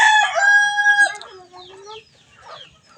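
A rooster crows loudly and close, one long harmonic call, among turkeys and chickens in a farmyard, followed by softer clucking and fowl chatter.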